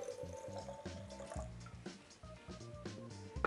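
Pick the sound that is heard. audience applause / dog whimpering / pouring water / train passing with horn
pouring water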